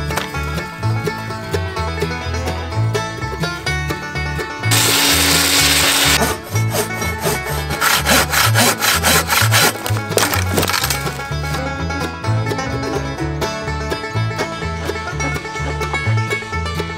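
Steady rhythmic sawing in a video game as overgrown plants and fallen trees are cut down, a loud rasping wood-cutting sound repeating in strokes over background music, with a bright hissing burst partway through.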